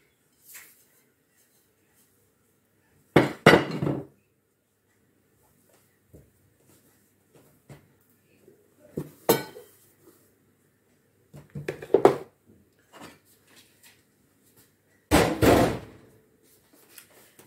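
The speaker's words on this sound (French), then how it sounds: "je vais la récupérer et la pétrir un peu sur mon plan de travail." Milk-bread dough is kneaded on a kitchen counter, giving short bursts of dull thumps and slaps separated by stretches of near silence.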